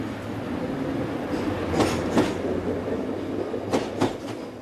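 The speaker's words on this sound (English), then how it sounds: "The train is at the platform." Southbound train pulling away from a station platform, a steady rumbling roll with a few sharp clanks and squeals from the wheels, fairly close; no voices.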